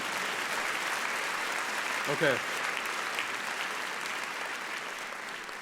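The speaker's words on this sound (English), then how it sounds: "Now you can clap a little bit." Steady applause from a graduation audience at a medical school ceremony, a dense even patter of many hands filling the hall, with one brief spoken word in the middle.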